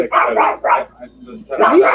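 A dog barks indoors, several sharp close barks in two bursts with a brief pause between them.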